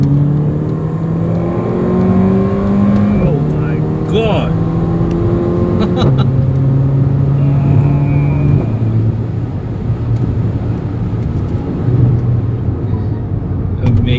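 A Mercedes-AMG GLA 45 driven hard on rough roads, its engine revving and climbing through repeated gear changes, loud and close from inside the cabin, with a man briefly exclaiming over it.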